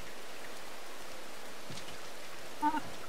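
Steady rainfall hisses in the video game Rain, a soft, constant wash of noise that continues evenly throughout, with a faint small tone near the end.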